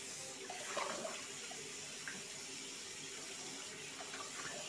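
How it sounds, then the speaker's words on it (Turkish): Tap water runs steadily into a kitchen sink while tripe is washed, a faint, continuous splashing hiss with small clatters of handling and no speech. "İşkembemizi yıkadık. Ve suyumuzu kapatıyoruz."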